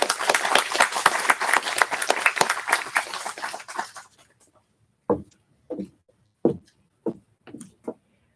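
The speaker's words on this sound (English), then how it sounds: "So let's have a round of applause again" Applause at a naturalization ceremony in Greeley fills a room with dense clapping for about four seconds, then fades, leaving a few scattered, isolated claps and faint knocks.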